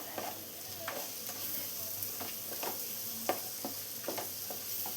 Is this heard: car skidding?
no